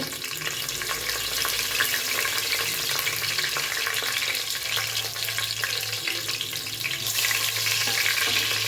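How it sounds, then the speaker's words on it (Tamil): Dry red and green chilies frying in oil, a constant loud crackling sizzle close by that holds steady throughout, with no voices over it. "இப்போது நான் வரமிளகாய் பச்சை மிளகாயை போட்டுக்கிறேன் அந்த ஆயிலே."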